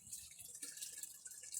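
Nutrient water trickles and splashes through an ebb-and-flow hydroponic tube for peppers in a garden setup, a faint, continuous bubbling flow with small drips and no voices.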